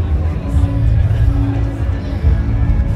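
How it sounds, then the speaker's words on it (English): A large outdoor crowd at Newtown Festival in Wellington, a dense, steady babble of many voices. Close chatter dominates the murmur throughout, with no clear cheering. "A lot of people. Crowd is getting bigger and bigger."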